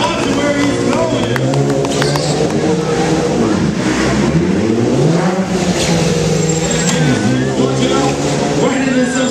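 BMW stunt motorcycle engine revving loudly during stoppies and brake tests at a 2013 New York motorcycle stunt show, with rising and falling pitch sweeps over steady crowd and announcer talk.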